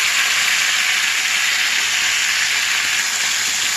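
Cabbage and bottle gourd pieces frying in a pan, a loud, steady, close hiss of sizzling with no talking.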